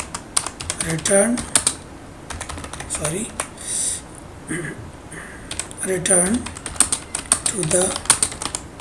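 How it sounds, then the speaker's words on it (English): Keyboard typing clicks in bursts of rapid keystrokes, entering text into a spreadsheet cell during an IGCSE ICT web page exercise, heard close up under a person talking throughout. "So here we need to type"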